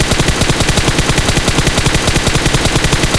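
Rapid, continuous automatic fire from an M4 rifle in PUBG Mobile. The shots crack loud and close in an even, fast rhythm throughout, with no talking.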